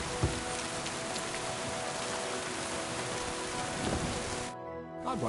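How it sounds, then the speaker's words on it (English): Steady rain falls continuously, a dense, even hiss of drops on surfaces, which cuts off abruptly near the end. "It'd be better if it wasn't raining"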